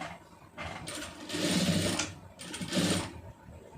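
A sewing machine stitches a normal blouse in two close bursts of rapid, even needle chatter separated by a short pause.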